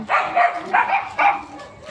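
A dog barks three times in quick succession, close and fairly loud, followed by a softer whine.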